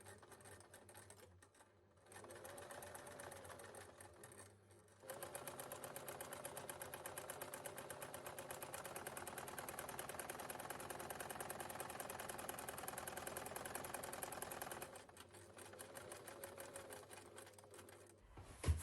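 A sewing machine stitching the inside seam of a fabric Easter gift bag, running in a steady, fast mechanical whir with short pauses at the start and near the end, quiet and close.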